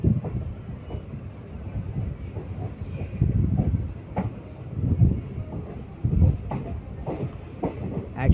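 Simhadri Express running after pulling out of Tadepalligudem station: a steady rumble of rolling railcars with repeated wheel clacks and brief metallic squeals, heard up close from on board with no voices.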